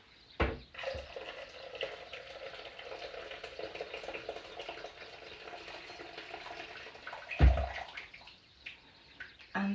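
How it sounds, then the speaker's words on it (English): Hot water poured from a kettle into a cooking pot, a steady splashing trickle lasting several seconds, framed by clunks of the kettle and pot at the start and near the end. "So I'm gonna pour in the hot water I've left from the kettle"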